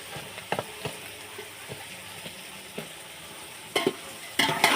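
Cashews and raisins fry in oil for pulao, a soft steady sizzle broken by a few clinks and scrapes of stirring, growing louder and busier toward the end.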